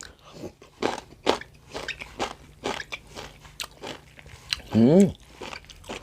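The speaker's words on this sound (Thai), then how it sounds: "มื้อนี้มีอ้อยมากินนะครับ" Someone bites and chews sugarcane at close range, with a steady run of crisp, fibrous crunches about every half second, plus one louder tonal burst near the end.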